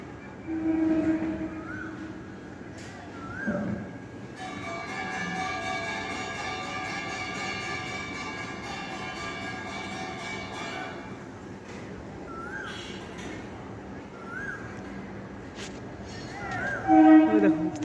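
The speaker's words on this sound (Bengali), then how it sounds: "দেখো ছাদের থেকে ট্রেন যায়" A train passes near a rooftop at dusk, its rumble building and a long sustained horn blaring through the middle, with people talking nearby.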